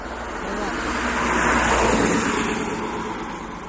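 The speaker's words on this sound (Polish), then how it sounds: "Ale fajne auto jest." A car drives past on a road, a steady broadband roadway rush that swells toward the middle and fades slightly, fairly close with no talk over it.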